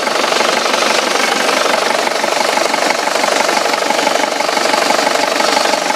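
A 2010 Isuzu Panther pickup's turbo diesel idles up close, a dense, fast diesel clatter held at an even level without a break.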